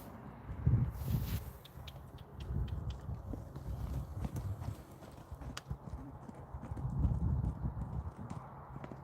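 A horse at a rescue ranch trotting in an arena, hooves clip-clopping in a steady rhythm close by, with a rider's voice giving occasional instructions.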